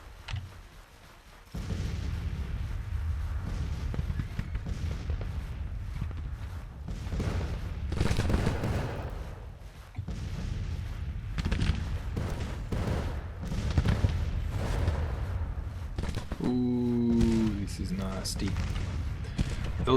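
Rifle volleys and artillery cannon fire crackle and boom continuously across a Grand Tactician Civil War battlefield at Clarksburg, with dense gunfire bursts throughout and a tonal game cue near the end.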